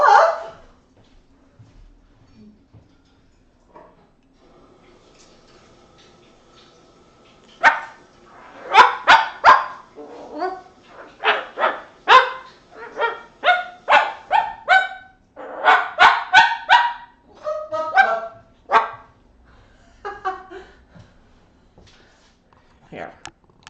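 A dog barks in bursts of sharp, close yelps and woofs during a live social gathering, with quiet gaps early on and a dense cluster of barks later, mixed with people speaking nearby.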